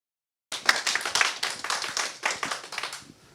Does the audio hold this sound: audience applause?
yes